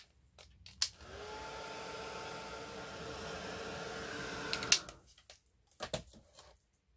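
A hair dryer runs steadily for about four seconds, drying paint on handmade journal cover art tiles, a close, even whooshing hum that starts and stops abruptly, with a few clicks and handling knocks around it.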